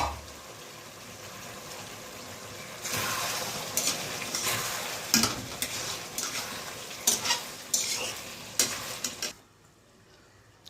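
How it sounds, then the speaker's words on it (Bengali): Chicken curry stirred in a pan, the spoon scraping and clacking in repeated sharp strokes over a bubbling sizzle, close and fairly loud, before it drops away near the end. "আমি এবার উঠিয়ে দেখছি একবার নেড়ে দেব"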